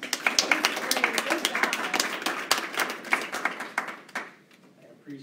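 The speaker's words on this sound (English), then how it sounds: "let's give her a round of applause" A room of listeners applauds a presenter after her final presentation, a dense patter of claps that starts loud and thins out to a few scattered hands near the end.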